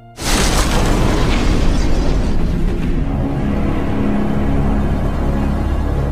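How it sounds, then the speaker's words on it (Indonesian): A bomb goes off inside an airport in a film scene, one loud sudden blast that swells into a sustained roaring rumble with debris noise, lasting several seconds with no voices. "pria itu ternyata membawa sebuah bom yang membuat beberapa petugas serta penumpang bandara tewas"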